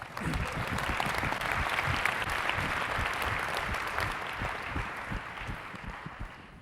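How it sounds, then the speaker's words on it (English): A conference audience gives a big round of applause, steady full clapping that holds strong before tapering off slightly at the close. "Give her one more big round of applause."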